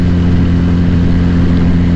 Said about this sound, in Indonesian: 350cc, 2 silinder, nah suara itu galak kayak gini